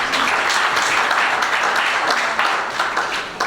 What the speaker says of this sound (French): je demande d'applaudir très fort pour vous